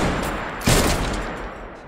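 A pistol shot cracks sharply partway through, set against a dense background of rumble and noise, with no talk.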